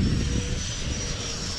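A 3D-printed 90mm RC Viggen jet plane flies with a steady, loud ducted-fan roar and high whine, continuous and close with no talking.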